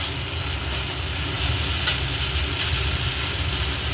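Spice paste sautés in hot oil for a vegetarian potato and pointed gourd curry, giving a loud, steady sizzle close up with faint stirring scrapes and no voices.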